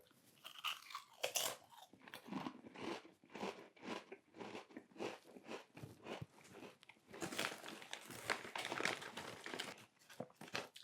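Crisps being crunched and chewed close to the mouth, irregular crisp crunches and bites with crinkly bursts, fairly faint overall, no talk.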